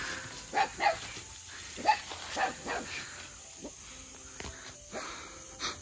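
Several dogs kept at an old man's tent deep in the forest bark in scattered, faint bursts at a distance, with quiet outdoor background between the yaps.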